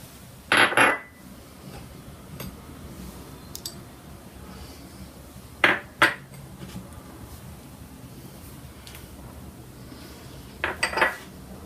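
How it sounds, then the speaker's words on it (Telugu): A metal pan set down on a kitchen stove, giving a few sharp clanks and clinks spaced several seconds apart against quiet room tone. "స్టవ్ ఆన్ చేసి పాన్ పెట్టుకొని"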